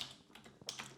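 Light, quick taps on a computer keyboard as a message is typed in business software, a faint cluster of soft clicks heard alone.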